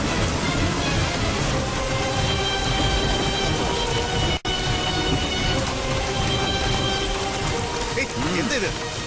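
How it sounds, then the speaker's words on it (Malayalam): Dense, continuous heavy rain roars steadily and loudly throughout, a broad constant wash with only one brief dip midway and no voices heard. "ഗതികെട്ട ഒരു മഴ."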